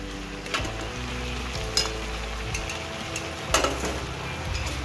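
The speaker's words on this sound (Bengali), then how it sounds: "তো এখন আমি পেঁয়াজটা দিয়ে দিয়েছি আর দিয়ে দেবো এখন টমেটো কুচিগুলো" Gentle frying sizzle of onion and chopped tomato in a pan for a mixed vegetable dish, low and steady, broken by a few soft stirring clinks and scrapes.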